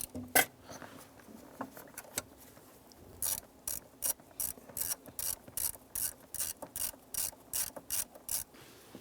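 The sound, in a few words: undoing screw on 1995-2001 Ford Explorer dash cluster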